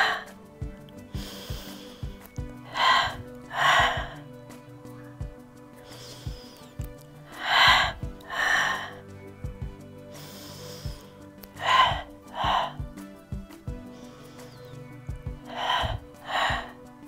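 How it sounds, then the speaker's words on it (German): Deep, audible breaths during a Pilates abdominal workout, with repeated strong inhales and exhales in an uneven rhythm, close and fairly loud over a soft background, with no talk. "Atme ein und aus."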